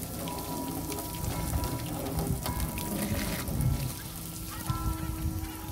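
Water falling and running off a freshly detailed Audi RS3 with a hydrophobic coating, a continuous close patter of drops and trickling across glass and bodywork, steady with slight swells, no talking.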